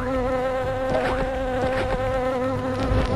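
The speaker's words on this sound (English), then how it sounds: "God, the bees, man, not the bees." Bees buzz loudly and steadily in the Ultimate Jazz Jackrabbit Doom video game, a Doom mod, with wavering droning tones layered under sharp game effects and no talking.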